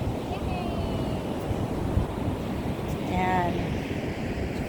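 Ocean surf rolls in steadily at a beach in Ilocos Sur, a broad constant wash of waves mixed with wind buffeting the microphone, while a voice speaks briefly and faint high calls rise for a moment.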